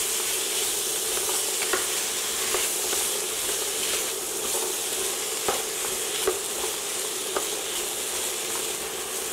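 Chopped carrots and potatoes cooking in a pan, a steady close frying sizzle with occasional light clicks from stirring, constant and moderately loud, no talking.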